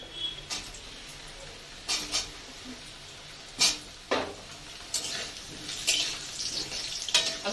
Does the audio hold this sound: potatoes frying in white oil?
yes